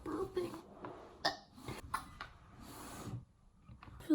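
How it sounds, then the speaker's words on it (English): A person burps several times, producing short throaty bursts separated by quiet gaps, close to the microphone. "Sorry, I keep burping."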